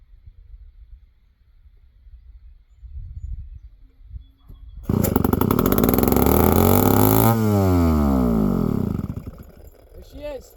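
A chainsaw that has been smoking and needs carburetor work starts after a few quiet pulls, then roars at high revs with loud, steady running before settling and tapering off, close to the microphone.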